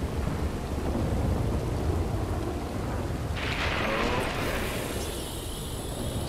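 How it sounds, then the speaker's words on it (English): Thunderstorm in the video game Red Dead Redemption: a constant wash of heavy rain with a rolling thunder rumble swelling partway through, all fairly loud and steady, with no voices. "Storm's clearing up."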